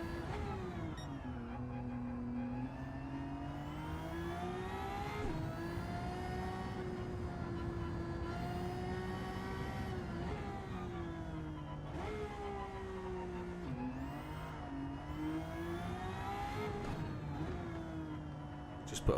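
A racing engine revs steadily with rising and falling pitch as gears shift, loud and continuous throughout.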